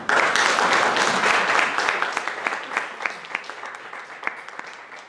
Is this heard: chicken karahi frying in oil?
no